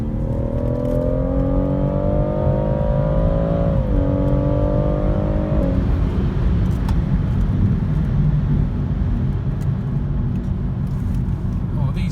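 A BMW M140i Shadow Edition hot hatchback pulls hard on the road, its engine note climbing in pitch and stepping down twice as it shifts, then easing into a steady rumble of tyres and road noise.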